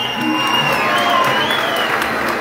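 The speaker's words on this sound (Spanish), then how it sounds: "Un aplauso para él." A crowd at a cumbia event in Bucaramanga applauds and cheers for the maestro, loud and continuous, with a sustained whistle-like tone and voices mixed into the noise.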